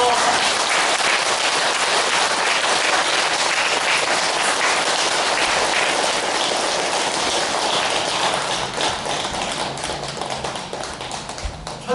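A Korean ceremony audience claps in sustained, dense applause that fades slightly near the end, with a voice faintly under the clapping.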